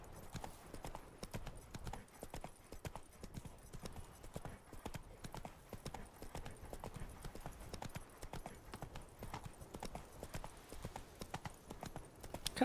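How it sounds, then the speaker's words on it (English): Horse hooves clip-clop steadily during riding in The Witcher 3, a quiet, even, continuous rhythm of soft hoofbeats with no talking. "Just the idea of riding a horse through this kind of territory"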